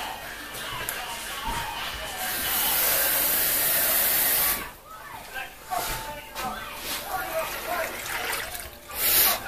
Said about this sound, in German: das füllen wir jetzt noch mit Wasser auf.